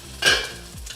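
A brief sizzle of salmon frying in a pan, one sharp hiss burst followed by a quieter crackle, close and alone without talk.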